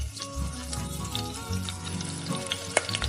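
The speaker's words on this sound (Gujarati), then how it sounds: "તેલ ગરમ થઈ જાય એટલે એમાં એક ચમચી રાઈ" Mustard seeds sizzling in hot oil, a close crackling fry with quick pops and stirring sounds against a steady low hum.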